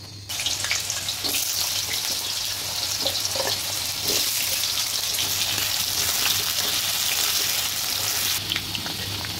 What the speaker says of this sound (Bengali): এই এখন তেল দিয়ে দিলাম কড়াইতে। আলুটা ভাজবো